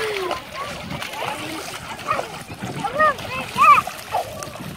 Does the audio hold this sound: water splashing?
yes